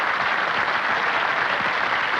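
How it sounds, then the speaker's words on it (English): A studio audience at a live 1989 television show on psychic powers applauds, a dense, steady clatter of clapping hands filling the whole moment. "You deserve a big round of applause for coming up here."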